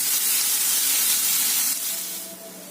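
Bitter gourd (karela) pieces frying in oil on medium gas, a steady loud sizzling hiss that eases slightly toward the end, with no talking.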